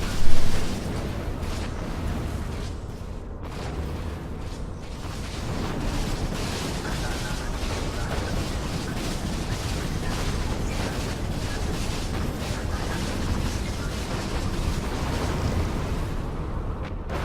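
Units blow up in a strategy video game in a dense, unbroken barrage of overlapping blasts, opening with one sharp burst before settling into a loud, steady rumble of crackling detonations.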